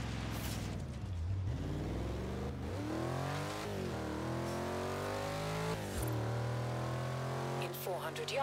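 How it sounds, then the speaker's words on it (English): A car engine in the racing game Forza Horizon revs and shifts, pitch climbing and dropping through several gear changes in a sustained, close, loud drone, with a voice speaking occasionally over it. "Man, that engine sounds sweet"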